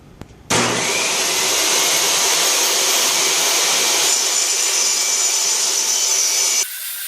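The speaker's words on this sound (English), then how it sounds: "You want to use a table saw for this application, not just cut it by hand." A table saw cuts through wood for a cabinet build, a loud steady whine that starts abruptly, holds evenly for about six seconds and then cuts off, leaving lower machine hum.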